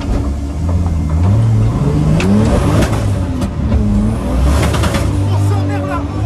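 Inside a Mazda RX8 swapped with a 2JZ engine making over 600 hp, the engine roars loudly and continuously as the car accelerates, with revs rising and falling and voices faintly mixed in.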